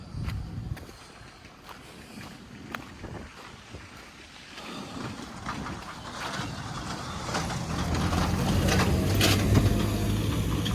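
A truck crosses a rough, rain-damaged road, with a low rumbling engine swelling gradually toward the end under gusty wind noise and scattered clatter.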